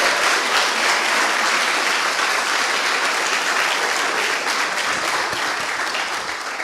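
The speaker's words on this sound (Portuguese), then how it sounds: "Você pode aplaudir Jesus bem forte por essa palavra?" A church congregation applauds loudly and continuously during a celebration service, a dense wash of clapping that stays strong throughout and tapers slightly at the end.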